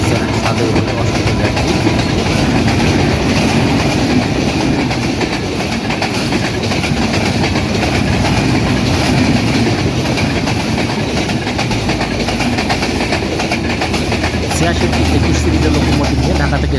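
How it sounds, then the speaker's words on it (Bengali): The 705 Up Ekta Express rolls through Azimnagar station on line two without stopping, a loud, continuous rumble with rhythmic clickety-clack of wheels over rail joints close by for the whole stretch. "সাতশো পাঁচ আপ একতা এক্সপ্রেস আজিমনগর রেল স্টেশনে দুই নম্বর লাইন দিয়ে থ্রু পাস করে চলে যাচ্ছে পঞ্চগড় অভিমুখে"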